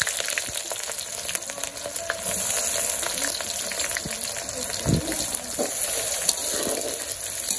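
Bay leaves and onion frying in a pan at a home birthday meal, a steady close crackling sizzle with occasional stirring scrapes throughout.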